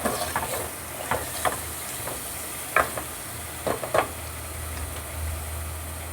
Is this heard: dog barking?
no